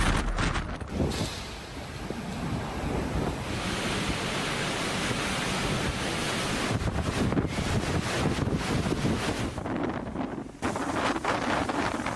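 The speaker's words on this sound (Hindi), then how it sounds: "200 किलोमीटर फी घंटा की रफ्तार से तूफानी हवाएं चलने लगी" Hurricane Milton's storm winds roar over pounding Florida surf in a continuous loud wash of noise, with buffeting gusts hitting the microphone throughout.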